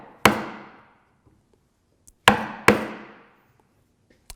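Chisel struck by a mallet across the wood grain while making a rocking chair: three sharp, loud woody knocks with ringing decay, two close together after a pause, plus a faint tap at the end.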